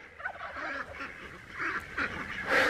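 At an off-grid homestead, ducks near a straw-bedded sheep house give several close, nasal honks and quacks in quick, uneven bursts.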